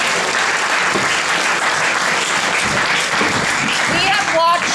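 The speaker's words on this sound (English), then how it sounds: "Please give yourselves a hearty applause." Sustained audience applause fills a hall at a school drama competition, a steady dense patter of many hands that carries on throughout, with a voice briefly audible near the end.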